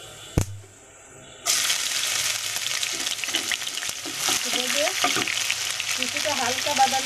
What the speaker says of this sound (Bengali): এখন পেঁয়াজ কুচি দিয়ে দেব।